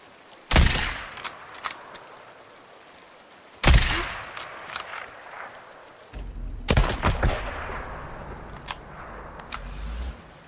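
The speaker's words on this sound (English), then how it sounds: "Next up, the Talon 7, which is sexy, but a very slow rate of fire." Talon 7 weapon gunfire in the video game Days Gone: a few loud, separate shots spaced seconds apart, each a sharp crack with a short decaying tail, plus lighter mechanical clicks between them and no speech.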